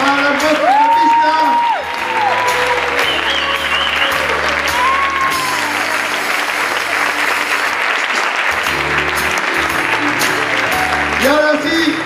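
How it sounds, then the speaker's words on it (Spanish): Loud, sustained audience applause fills a charity gala hall, with crowd noise and a few cheers, while a voice speaks over it in places. "un grandísimo aplauso para las voces de la pista"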